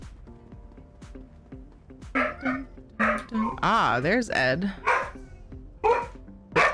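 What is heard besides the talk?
dog barking with Kong toy in mouth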